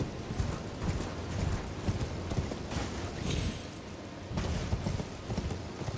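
The horse Torrent's hooves clip-clop at a steady trotting rhythm in the video game Elden Ring: Shadow of the Erdtree, close and continuous, with faint creaks and a broad wash of background noise throughout.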